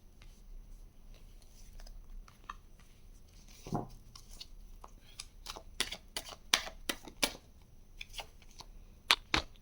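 Tarot cards are shuffled by hand, starting with sparse soft taps and building into a run of sharp riffling snaps and flicks, close and fairly quiet with no talk.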